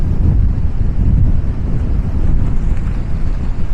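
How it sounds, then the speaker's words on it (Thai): Strong wind blasting across a sandy surfing beach at Muizenberg, South Africa, a loud continuous low roar buffeting the microphone with no pauses and no voices. "หวังว่าจะได้ยินนะครับลมแรงจริง"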